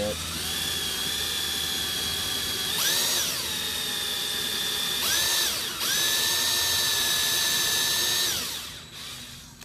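A power drill bores through plexiglass for a backlit arcade control panel, its steady high whine holding throughout, dipping and rising twice as the bit bites, then winding down near the end; close and loud.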